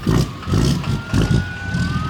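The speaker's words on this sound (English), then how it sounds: "There's already sirens" A siren wails faintly in the distance, its rising tone sitting beneath a rumbling engine and passing traffic.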